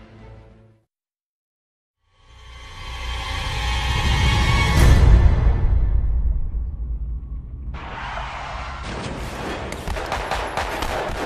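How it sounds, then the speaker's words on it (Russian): A distant, rumbling barrage of gunfire swells and fades, followed by a sharper, crackling burst of rapid shots continuing to the end. "Не всегда услышанная за окном стрельба связана с терроризмом"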